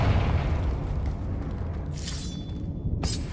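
Confringo spell explosion in Hogwarts Legacy, a deep rumbling boom that rolls out and slowly decays, capped by two bright crackling bursts near the end.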